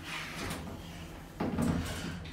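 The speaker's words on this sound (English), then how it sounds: "Doors closing." Furse lift doors at a Stourbridge leisure centre slide shut, a low rumbling mechanical slide with a firmer thud of closure partway through, fairly close and alone.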